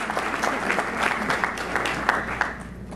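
Audience applause for a guest at a business presentation on social media, a steady roomful of clapping hands with a low hum underneath, fading slightly toward the end.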